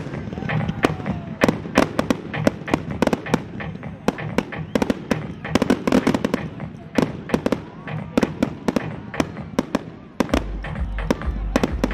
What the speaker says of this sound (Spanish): comenzamos a disfrutar este show de fuegos artificiales